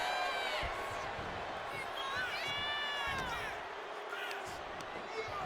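Arena crowd in the WWE 2K25 wrestling video game, a steady roar of cheering and whooping that rises with a couple of louder swells, running under an excited commentator's voice throughout.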